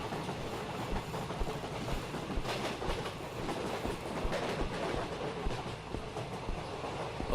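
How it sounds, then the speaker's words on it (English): Train rolling on rails in the Anant Express video game, a continuous rumbling clatter with rhythmic clickety-clack bursts, fairly loud and steady throughout, with no voices. "let me know if the train noise is too loud"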